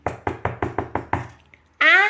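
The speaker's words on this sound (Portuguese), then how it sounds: "voltou a bater a porta" A door is knocked six times in a quick, even rhythm, sharp and close, in a reading of the wolf and the seven young goats. A pause follows, then a voice begins speaking.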